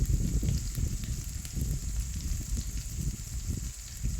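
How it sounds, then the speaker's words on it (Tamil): Onions and dried red chilies sautéing in a pan for a Chettinad country chicken fry give off a faint, steady sizzle and crackle with a light high hiss running throughout. "வெங்காயம் வந்து பார்த்திங்கன்னா நல்லா பொன்னிறமாக சேர்ந்து வர வரைக்கும் வதங்க விடுங்க."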